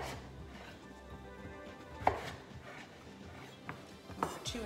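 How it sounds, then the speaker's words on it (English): A knife cuts food into 2-inch cubes on a board with a few soft, irregular chopping taps and a couple of sharper knocks, faint and close, beneath low background hum. "Before we cut it again in the other direction, making our 2-inch cubes."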